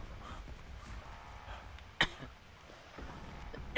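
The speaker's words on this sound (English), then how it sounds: "Sorry for that cough." A person coughs sharply once near the microphone, then coughs again at the very end, with only quiet background between.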